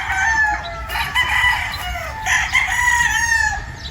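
A Sweater gamefowl rooster on a farm crows loudly and close, with two or three drawn-out calls in quick succession and some clucking between them.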